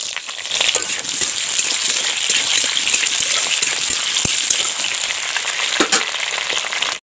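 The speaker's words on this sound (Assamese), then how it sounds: "আমাৰ আলুখিনি ভাজি হৈছে" Potatoes fry in hot oil with cumin and garam masala, a steady, close, loud crackling sizzle that runs unbroken for about seven seconds before cutting off abruptly.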